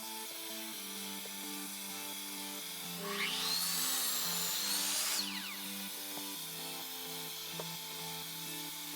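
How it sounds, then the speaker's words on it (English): Mitre saw cutting wooden spindles to length, a brief whining spin-up and a rough cut lasting about two seconds over a quiet humming shop background. "Now cutting the spindles to length on the mitre saw."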